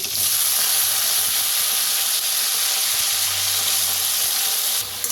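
Curry leaves, green chillies and potatoes frying in a pan with asafoetida, a loud, continuous close sizzle that holds steady throughout and drops briefly near the end.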